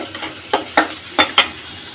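Fish frying in a pan until dark, heard as a close, steady sizzle punctuated by four quick, sharp scraping strokes as the pieces are stirred and turned.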